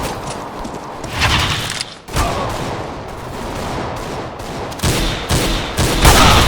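Rapid bursts of gunfire from a Counter-Strike: Global Offensive match, close and loud, with sustained automatic shooting and sharp single shots overlapping in a dense, continuous exchange.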